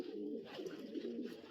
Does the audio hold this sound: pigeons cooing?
yes